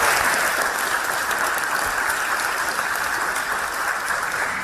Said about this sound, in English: we can cut down on the applause